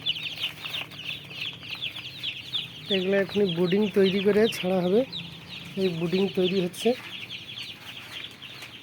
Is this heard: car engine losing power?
no